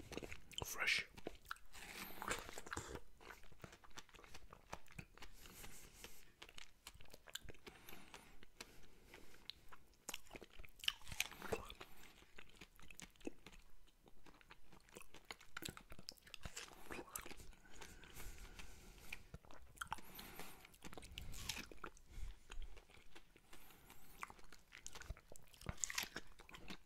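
Someone bites and chews fresh dragon fruit (pitahaya) close to the microphone, with soft, moist crunches and mouth sounds repeating steadily over a quiet background.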